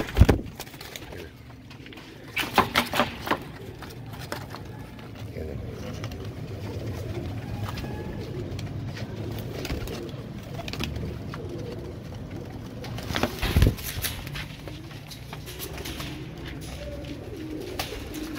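A breeder pair of Royal Teddy pigeons coo softly and repeatedly against a busy background of ambient noise, with a few louder bumps and flutters.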